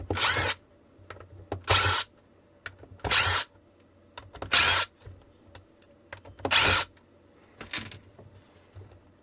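A power drill driving out the bottom screws of an EGO 56V 7.5Ah battery case, six loud close whirring bursts of about half a second each, separated by quiet gaps with small clicks and handling taps.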